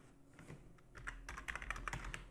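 Quiet, quick tapping of keys on a computer keyboard while code is typed, soft clustered clicks building into a steady run of keystrokes, close and faint with no talk.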